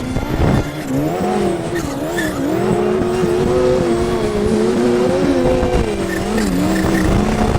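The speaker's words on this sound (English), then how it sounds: "He's working the throttle of his Alpine boosted turbo Yamaha." A Yamaha snowmobile with an Alpine turbo boost climbs a mountain slope through avalanche debris. Its engine revs loudly and continuously, with the pitch wavering up and down as the throttle is worked, close and constant.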